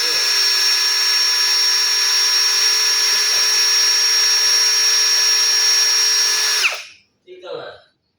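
A 3R brushless cordless drill runs at a steady high-pitched whine, loud and close, holding constant for several seconds before spinning down abruptly, followed by a brief soft thump.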